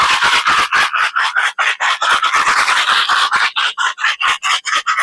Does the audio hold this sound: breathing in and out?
no